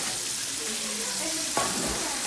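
Steak and onions frying in butter on a Blackstone griddle, a loud, steady hiss of sizzling fat close up, with a brief scrape of a spatula flipping partway through.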